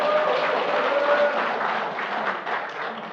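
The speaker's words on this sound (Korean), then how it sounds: "이분들에게 특히 박수를 한번 보내주십시오" An audience applauds steadily for a few seconds, a moderate wash of clapping from a seated crowd in a lecture hall.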